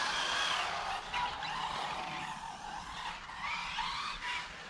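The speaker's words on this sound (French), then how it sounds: "On va taquiner un peu ce moteur." A Hobao Hyper Star RC car with a Toro 2400 kV six-pole motor and Tovo tires screeches and skids in repeated bursts of tire squeal and whining motor on an overcast track, loud and close.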